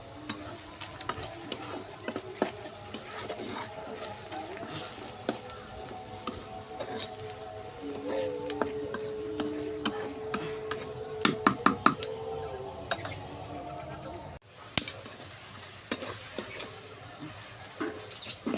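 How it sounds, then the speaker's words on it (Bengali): Onions frying with bay leaves in oil for a chicken bhuna crackle and hiss steadily, while a spatula scrapes and knocks against the pan in irregular strokes, close and quiet, with a brief pause near the end. "আমার পেঁয়াজ ভাজা হয়ে গেছে।"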